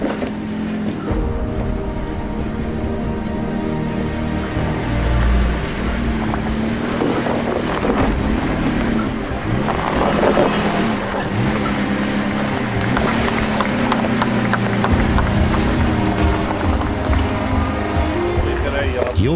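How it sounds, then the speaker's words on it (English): Land Rover Discovery 4x4 engine labouring and revving as it climbs rock steps on a steep off-road hill trail, with loud continuous engine noise and wind buffeting throughout, under people talking nearby. "Note how the front wheels lose traction as the 80 climb one of the rock steps on this hill."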